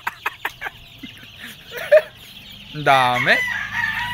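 Chickens cluck in short bursts in a backyard farm pen, then a rooster lets out a loud, close crow; a person briefly speaks in between.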